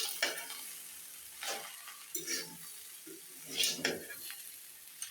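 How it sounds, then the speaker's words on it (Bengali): A leftover-roti dish being mixed in a pan, quiet intermittent scrapes and stirs of a spatula against the pan with a soft sizzle beneath, a few separate strokes spread over several seconds. "এখন ভালোভাবে মিশিয়ে নেব।"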